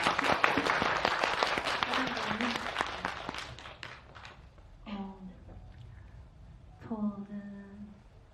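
Crowd applause at a special film screening event in a cinema hall, loud clapping at first that fades out, followed by a voice speaking over a microphone in the quieter second half.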